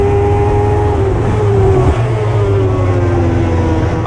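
A race car engine runs at full throttle in a racing video game, a loud, steady high-pitched drone that holds its pitch with a slight shift midway, with no talk over it.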